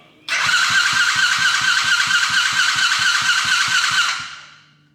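A Coolster 110cc dirtbike engine that won't start cranks on the electric starter in a rapid, even rhythm of chugging pulses for about four seconds without catching, with a whine over the top, then the sound fades out.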